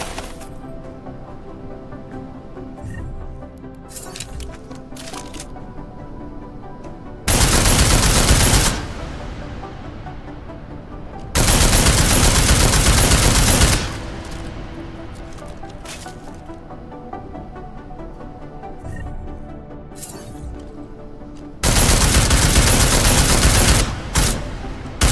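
Weapon fire at armored targets in Deus Ex: Mankind Divided, three loud sustained bursts of automatic fire separated by quieter stretches of game ambience.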